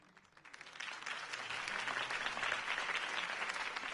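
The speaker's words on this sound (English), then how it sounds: "If only Mr. Wayne, my campaign's largest backer, could have heard that applause" A crowd claps and cheers at a Harvey Dent campaign rally in the video game Batman: The Telltale Series. The applause swells quickly into a sustained, dense burst that stays steady for several seconds.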